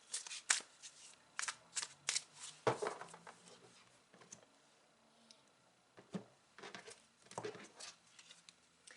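Tarot cards are handled and shuffled up close, with bursts of quick papery riffles and slaps, a pause of quieter rustling, then more flicking. Soft and intermittent, with no talking.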